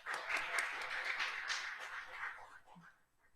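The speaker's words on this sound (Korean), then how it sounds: "박수로 맞이해 주세요." An audience at a welfare workshop gives a short round of applause, faint and distant, fading out after about three seconds.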